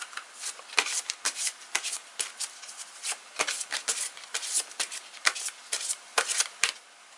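Tarot cards shuffled by hand, a steady series of crisp riffling and slapping bursts repeated in an irregular rhythm, close and clear against a quiet background.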